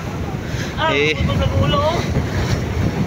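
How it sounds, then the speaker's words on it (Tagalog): Loud, constant wind rumble buffets the microphone at sea with whitecapped waves, with a brief voice cutting through the roar. "At malakas na rin ang hangin."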